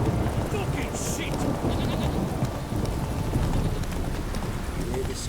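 Horse hooves trot in a steady clip-clop in The Witcher 3, close and continuous over a dense bed of game ambience, with voices and bleating livestock mixed in.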